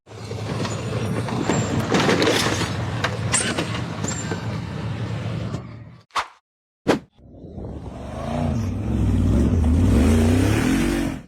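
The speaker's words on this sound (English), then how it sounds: "The black buggy tried to accelerate up the tall dirt hill in the forest" A black off-road buggy revving hard as it climbs a tall dirt hill in a forest, the engine roaring loudly, then cutting out briefly with a couple of sharp knocks before the rumble returns heavy and low.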